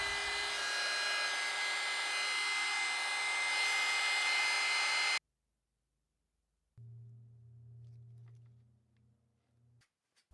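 A heat gun blows steadily on heat shrink tubing over freshly crimped wire terminals during an electric pressure washer repair, a loud whirring hiss that cuts off abruptly, followed by silence and then a fainter low hum.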